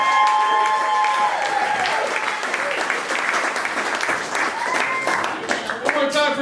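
A comedy crowd at an art gallery show in San Diego breaks into loud, sustained applause and cheering for a comedian, clapping rolling on for several seconds with scattered whoops over it.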